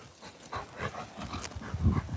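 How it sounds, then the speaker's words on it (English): A dog during a cooling-off play game, heard up close with faint panting and a soft whimpering vocalization building toward the end. "That is a cute dog you got."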